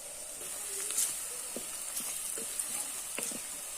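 Onion, garlic and chili powder frying in a pan, a soft steady sizzle with small crackles and a few light stirring scrapes, close by and alone.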